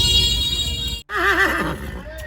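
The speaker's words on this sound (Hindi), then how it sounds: "बहुत खूबसूरत घोड़ा है, वन ऑफ द बेस्ट नुकरास यार" A horse at a horse fair gives a loud, close whinny with wavering pitch, preceded by steady background noise and a brief break, with faint crowd sounds around.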